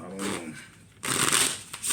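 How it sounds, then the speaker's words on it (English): Tarot cards are shuffled close by in two quick riffling bursts separated by a short pause, with no talk over them. "Do a little shuffling in front of your eyes."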